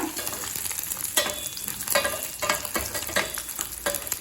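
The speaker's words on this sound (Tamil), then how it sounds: "மிளகாயும் பூண்டையும் வறுத்தாச்சு" Dried red chillies and garlic cloves fry slowly in oil in a pan, giving a close, steady sizzle broken by several stirring scrapes.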